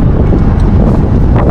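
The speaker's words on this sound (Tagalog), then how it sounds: "Sobrang lakas po ng hangin." Very strong typhoon wind from Typhoon Gaemi in Taiwan roars steadily and loudly into the microphone, a dense buffeting rush with no voices.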